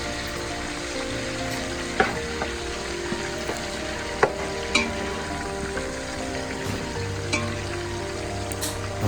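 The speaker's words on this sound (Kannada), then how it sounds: "ಫಸ್ಟು ಪುದೀನ ಫ್ಲೇವರ್ ಹೋಗೋವರೆಗೂ ಒಂದು ಸ್ವಲ್ಪ ಫ್ರೈ ಮಾಡೋಣ." Mint leaves and green chillies fry in oil for chicken biryani, a steady close sizzle with a few sharp stirring clicks and crackles scattered throughout.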